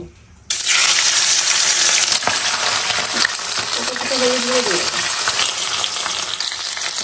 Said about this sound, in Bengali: তেল গরম হয়ে গেছে, এবার মাছগুলো ভেজে নেব